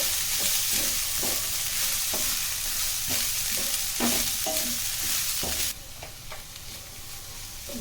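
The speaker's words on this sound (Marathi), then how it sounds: "कांद्याची पात थोडी, एक 2 ते 3 मिनिट आपण चांगलं भाजून घ्यायचं." Spring onion greens stir-fry in a pan for veg fried rice, a steady loud sizzle broken by regular scraping clacks of the spatula.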